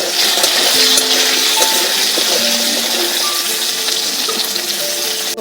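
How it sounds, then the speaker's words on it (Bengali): Potatoes sizzle in a pan of hot oil with mustard seeds, a continuous dense frying hiss that is close and fairly loud, with faint stirring and no talking. "আলুটা দিয়ে একটু ভেজে নেব।"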